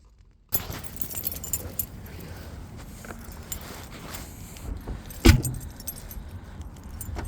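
Keys jangle close by as someone climbs out of a car, amid rustling, shuffling and small metallic clinks, with one sharp thud of a door or handling knock near the end.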